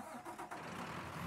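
A car engine cranks and struggles to catch in the Mafia III video game, giving a short, rough, sputtering turnover burst at moderate level with no one speaking over it.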